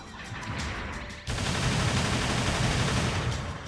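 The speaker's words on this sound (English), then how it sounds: "now the submachine gun" Submachine gun in Gundam Battle Operation 2 firing a dense, continuous rattle of rapid shots that swells louder partway through, with no talking.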